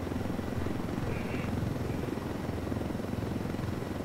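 Helicopter in Ghost Recon Wildlands video game, a continuous low rotor thump and engine drone held at an even level throughout, no voices heard.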